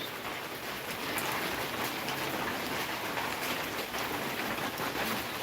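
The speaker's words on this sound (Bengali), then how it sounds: "আমাদের মানিকগঞ্জে আজকে প্রচুর পরিমাণে বৃষ্টি হচ্ছে" Steady heavy rain hisses continuously in Manikganj, Bangladesh, a dense even patter with faint scattered drips, with no voices.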